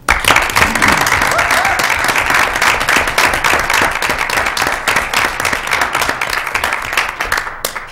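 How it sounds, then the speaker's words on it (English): Audience applause fills a school board meeting, dense steady clapping from many hands that stays loud for about eight seconds and thins slightly toward the end. "I just want everyone to please join me in applauding Dr. Russell"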